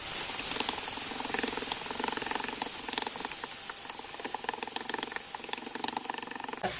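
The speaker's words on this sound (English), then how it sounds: "Right now I am browning 1 pound of ground beef." One pound of ground beef browns in a pan with a continuous soft sizzle and scattered pops and crackles, fairly quiet with a faint hum underneath.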